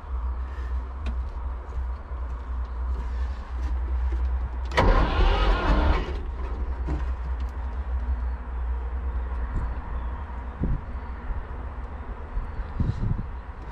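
A Kaiser X4 spider excavator's engine runs steadily with a low rumble, then surges loudly for about a second as throttle is applied before settling back to idle, with a few scattered clunks and knocks afterward.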